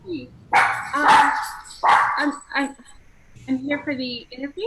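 Dogs barking in a pet store, several sharp barks and yips bursting out close by in the first half, with a person talking over and between them.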